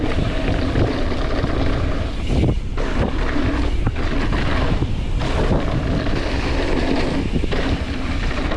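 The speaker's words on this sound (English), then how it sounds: "Yeah, it's very windy." Strong wind buffeting the microphone on a mountain bike trail, a loud constant rumble with gusty surges and no speech.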